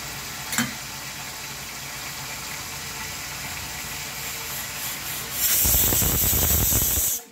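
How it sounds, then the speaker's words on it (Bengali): A pressure cooker on a gas stove, boiling cauliflower and potatoes for a spicy-sour dish, hums quietly under low kitchen noise, then bursts into a loud, steady hiss of escaping steam for about two seconds before cutting off. "সিটি হয়ে গেল।"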